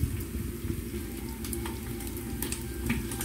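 Hot oil spattering and sizzling steadily while spicy crispy dilis anchovies fry in a pan, a close, dense crackle with sharp pops, no talking.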